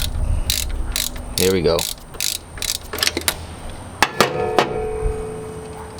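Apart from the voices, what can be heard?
ratchet loosening power steering bolts on a Mazda Miata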